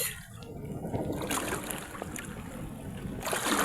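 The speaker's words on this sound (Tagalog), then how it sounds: "Nagsimula na guys ang hangin at alon guys." Wind and waves rush at sea as a storm approaches, a continuous broadband roar with surging swells close by and no talk.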